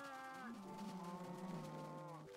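Cows in Minecraft moo while being bred, a single drawn-out, wavering moo that lasts about two seconds and is heard alone.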